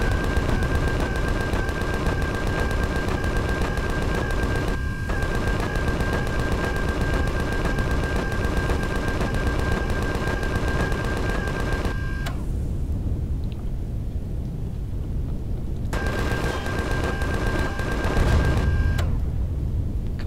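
Automated base turret in the game Empyrion fires steady rapid bursts, loud and close, with a high electronic whine running through the shots. The firing breaks off for a few seconds, then resumes before fading.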